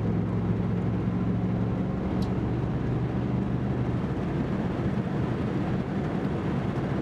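A 1988 Chevrolet Camaro IROC Z with a Flowmaster exhaust driving and taking a corner, heard from inside the cabin as a steady low engine and exhaust rumble with road noise, continuous and fairly loud without talk.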